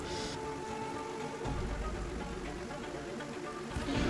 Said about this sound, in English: the rain is non-stop